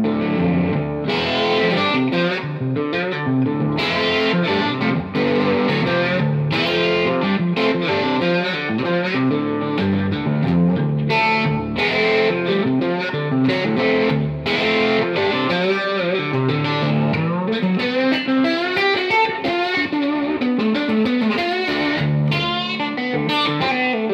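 Slide guitar is played through a Yamaha THR10 amp with distortion, in a continuous, loud, gritty stream of sliding notes and chords with no talking.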